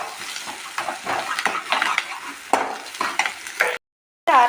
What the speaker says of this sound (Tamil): இப்போ வந்து வெங்காயம் அண்ட் மிளகா போட்டு நல்லா வதக்கணும்